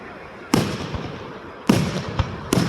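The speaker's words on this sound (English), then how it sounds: "These are some really pretty fireworks" Fireworks with sparkling glitter effects burst in three sharp, loud reports, each trailing into crackling hiss, with faint voices between the bangs.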